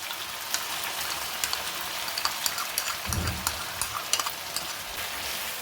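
Chicken kadhai with yogurt being stirred in a pan for white chicken karahi, a steady sizzle with repeated scraping strokes and a short, deeper bubbling burst midway, heard alone at moderate loudness.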